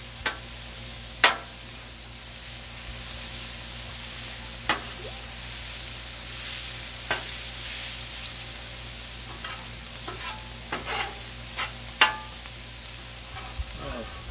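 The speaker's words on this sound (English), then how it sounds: "throw in some bacon" Bacon frying in a pan with a steady crackling sizzle, punctuated by several sharp clinks and taps of a utensil against the pan; no talking.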